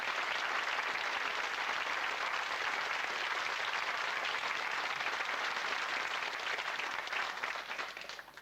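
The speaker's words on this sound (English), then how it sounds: "So give yourselves a round of applause" A 1995 BBC television studio audience applauds in a steady, full-bodied wash of clapping that stays even throughout and trails off slightly at the very end, heard at a moderate distance.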